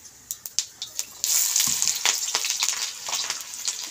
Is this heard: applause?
no